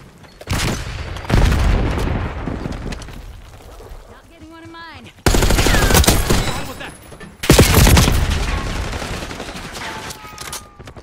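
In Call of Duty: Black Ops 6 multiplayer, a frag grenade blast booms amid bursts of rapid gunfire, several loud, close explosive volleys separated by short quieter gaps.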